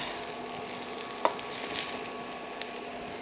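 Fried rice sizzling as it is stirred in a hot pan. A steady frying hiss runs throughout, with one sharp utensil click and faint scraping. No one speaks.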